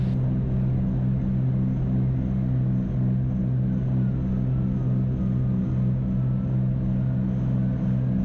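Steady, loud droning roar of a Skyhawk engine at full power in the climb, heard from the cockpit, an even, unbroken rumble with slight pitch wavering.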